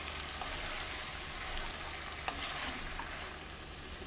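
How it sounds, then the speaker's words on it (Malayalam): Fresh homemade wheat-flour pasta is tossed and stirred in a pan with the other ingredients, a quiet, even sizzle with light scraping from the stirring. "ഇതെല്ലാം കൂടിയിട്ട് നന്നായിട്ട് മിക്സ് ചെയ്യാം"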